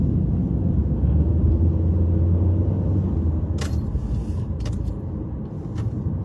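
A car engine rumbles steadily with a low, continuous drone, close and fairly loud, with a few faint clicks and knocks near the end and no talk.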